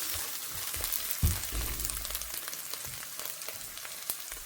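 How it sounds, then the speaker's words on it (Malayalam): Chopped onions fry in a pan while a restaurant-style curry gravy is cooked, giving a steady, close sizzle and crackle with a few brief louder pops and no talking. "നമ്മുടെ ഒനിയൻ നല്ലപോലെ വഴന്ന് വന്നിട്ടുണ്ട്."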